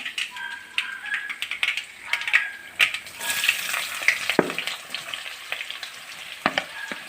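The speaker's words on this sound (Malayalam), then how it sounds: "നമുക്കിനി സവാള അരിഞ്ഞത് ഇതിലേക്ക് വഴറ്റാനിട്ട് കൊടുക്കാം" Chopped onions sautéing in a pan for chicken mappas, crackling, spitting sizzle with irregular bursts and scraping stirs, close and moderately loud, with no voices.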